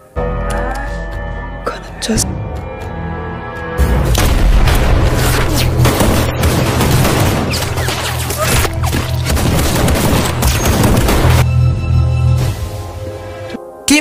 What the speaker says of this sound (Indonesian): karena terjadi aksi tembakan beruntun tadi